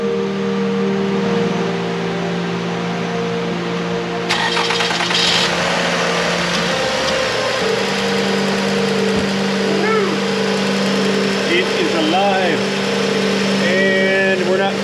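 A 2005 Lexus RX330 engine idles steadily with a mid-pitched hum, then catches and runs rougher with brief revs, while people talk over it throughout.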